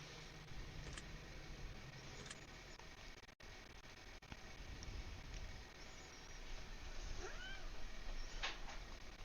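A cat meows a few times inside The Test video game, short bright calls over a steady, dense background hum with no talking.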